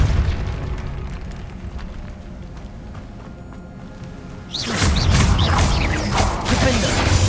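A Depulso spell is cast in the Hogwarts Legacy video game, a loud booming burst that erupts abruptly partway through over rumbling game ambience.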